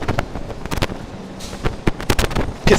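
Gusty wind buffets a microphone on a New York City street, with irregular loud rumbling thumps and bursts of blowing noise that come and go in uneven waves up close.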